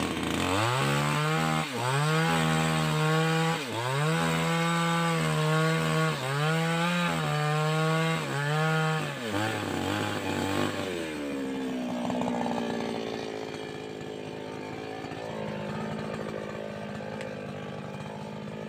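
A chainsaw cuts through a felled sengon tree near a cassava field, its engine revving up and down in repeated strong pulses before settling into a rougher, lower drone, loud and close with no voices.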